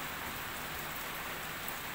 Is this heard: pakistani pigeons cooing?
no